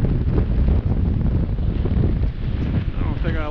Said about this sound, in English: I turn this way so the wind's not so bad.